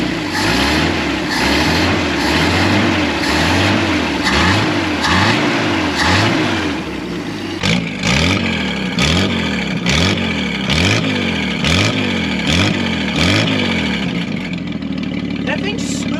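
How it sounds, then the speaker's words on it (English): A 1954 Plymouth Savoy straight-six with straight pipes idles steadily, a loud, rough, rhythmic exhaust burble with regular pulses and a little engine whine, running on without a break and cutting down near the end. "Definitely still straight piped, but that's 6 cylinders and it's idling."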